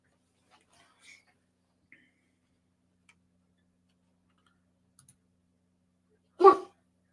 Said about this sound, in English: my dog is losing it today.